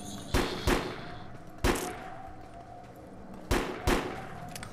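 Pistol shots in the video game Defiance, a handful of sharp single cracks fired in pairs with short pauses between them, each ringing out briefly before fading.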